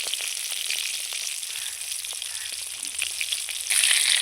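Mirka fish frying in hot oil, a continuous bright close sizzle that swells louder toward the end, with no talk.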